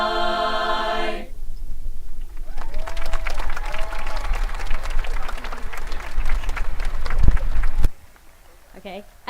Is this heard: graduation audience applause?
yes